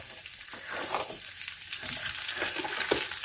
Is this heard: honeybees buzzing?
no